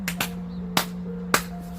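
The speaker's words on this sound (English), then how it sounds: "clap your hands 3 times" Hands clap several times during a qigong and tai chi dance session, sharp distinct claps at uneven spacing over quiet background music with a steady low hum.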